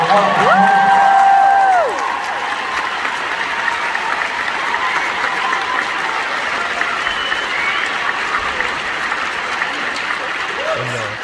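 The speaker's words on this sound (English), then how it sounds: "Jude, let's hear it one more time for it" An audience applauding steadily at a film premiere Q&A, a dense wash of clapping close and loud, with a brief tone sounding over the start.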